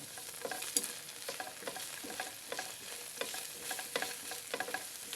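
Garlic sautéing and being stirred in a pan for beefsteak, a steady close sizzle with repeated scraping stirs throughout and no talking.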